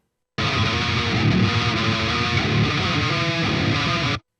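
Pitched-down distorted guitar chugs played through an amp, a dense, loud and continuous wall of heavy palm-muted riffing that cuts off abruptly at the end.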